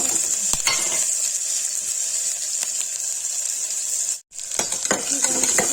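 Onions hit hot oil in a pan with a loud, steady hiss and sizzle, broken by a few clinks and a brief gap near the end, close up with no talk.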